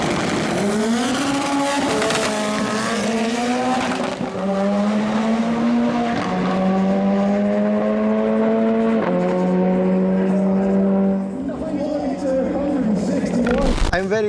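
VW Lupo drag car powered by two VR6 engines roars loud and close, revving in long rising sweeps with tire squeal from wheelspin, engine note climbing through gears before cutting off.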